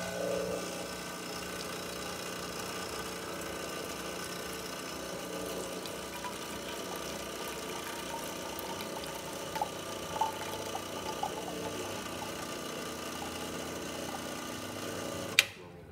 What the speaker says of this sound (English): We're going to run a shot and see how it works.